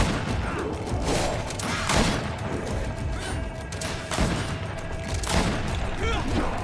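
Gunshots ring out in the video game Greedfall as an enemy is shot, several sharp reports spaced irregularly over steady combat noise and faint background sounds.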